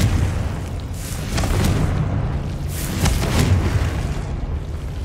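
Confringo fire-blast spells in Hogwarts Legacy, striking magical roots: two or three booming bursts over a steady low rumble of game ambience, loud and close.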